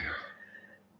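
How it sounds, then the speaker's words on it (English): One faint, short cough at the start, trailing off into quiet room noise. "I'm gonna cough."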